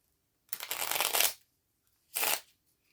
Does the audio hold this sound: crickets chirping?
no